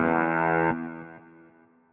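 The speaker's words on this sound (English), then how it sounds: "And with Portamento on, it always glides between notes." A monophonic synthesizer patch on the Outersect Modeler with portamento on plays a sustained bright tone that glides into a new note, then fades with a faint echo tail, clean and alone.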